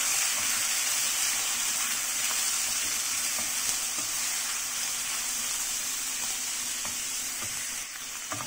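Beef sautéing with garlic, onion and ginger in a pan makes a loud, continuous sizzle and hiss, with stirring scrapes now and then and no voices.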